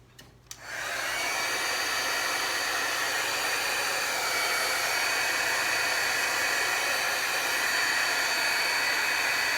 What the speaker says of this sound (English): I'm going to get my dryer.